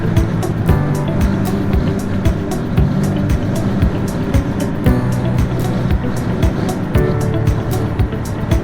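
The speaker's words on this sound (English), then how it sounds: "Shifting to gear, the jalopy heaved before continuing down the remote country road." An old jalopy car shifts gear and drives along a remote country road, its engine rumbling loudly and steadily throughout with a dense low drone and periodic sharp clunks.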